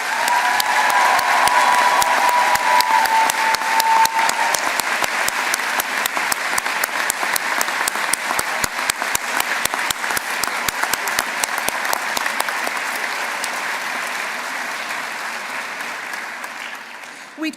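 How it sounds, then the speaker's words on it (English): A graduation ceremony audience gives university staff on stage a big round of applause, a dense, steady wash of clapping filling the hall that carries on throughout and tapers slightly toward the end. "giving them all a huge round of applause"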